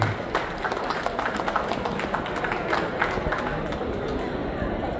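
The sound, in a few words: applause for Mydin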